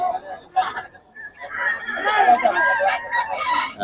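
At a fighting cock expo, roosters crow and cluck nearby in overlapping calls, with chatter and background crowd voices mixed in.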